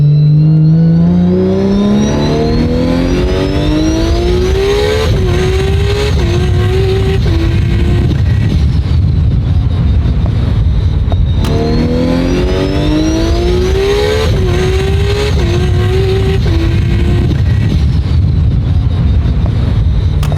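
A 1740 hp Nissan R34 GT-R with an RB26 engine and a single 60 mm Turbosmart wastegate makes a loud street pull. The revs climb steadily through two long gear sweeps with a brief shift break between them, and the engine drones hard throughout.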